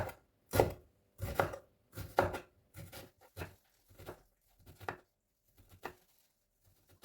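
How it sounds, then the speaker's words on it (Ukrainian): A knife chops through onion on a board in quick, uneven bursts of sharp strokes, close and clear, slowing toward the end. "цибулю нарізаємо"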